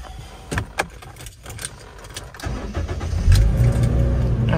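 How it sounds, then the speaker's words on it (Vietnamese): A 2014 Toyota Innova G automatic's engine cranks and catches, settling into a steady low idle after some clicks and rattles. "Rồi em nổ máy rồi nha."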